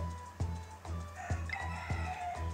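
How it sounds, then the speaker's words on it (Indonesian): Chickens cluck and a rooster crows in a game battle scene, with a steady rhythm of repeated clucks and a brief crow partway through, set over a constant low background hum. "Ini suara ayam gak bisa diem"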